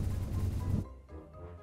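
Cannon firing in the video game Satisfactory, a loud booming blast with rumbling low end that cuts off abruptly, followed by a fainter lingering rumble.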